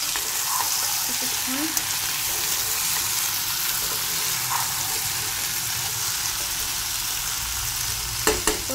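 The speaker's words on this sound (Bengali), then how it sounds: "মাংসটাকে আমি ভালো করে কষে নেব" Country chicken meat sautéing in a pan, a loud continuous close sizzle with occasional scraping stirs and a few knocks near the end, while a voice briefly speaks over it.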